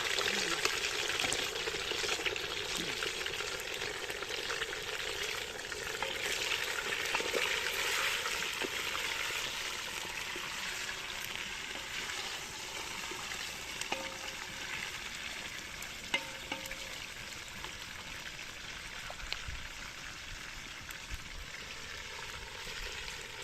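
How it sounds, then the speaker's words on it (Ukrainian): Continuous sizzling and crackling of chicken frying in hot oil outdoors by the Southern Bug river, fairly quiet and steady, with occasional small pops and faint clinks. "Хорошо шкварчить."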